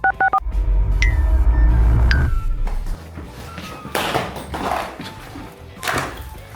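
Phone keypad dialing tones as a number is punched in to call a restaurant, a quick burst of short beeps at the start, followed by low rumbling handling noise and faint voices talking in the background.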